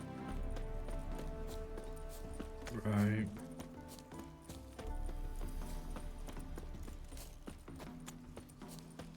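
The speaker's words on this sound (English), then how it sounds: "Spooking my horse." Horse hooves clip-clop in The Witcher 3 over steady game music and ambience, a spooked horse briefly whinnying midway while someone talks over the scene.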